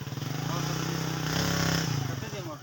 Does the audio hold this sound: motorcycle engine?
yes